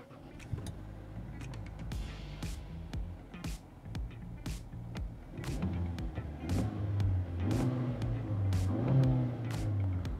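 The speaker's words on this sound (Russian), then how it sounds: "запускаем двигатель и открываем автомобиль мы с помощью кнопки" Changan CS35 Plus 2023 started cold by push button and heard from inside the cabin: clicks and a short whir, then the engine catches and settles into a low, steady idle hum, with brief quiet talk.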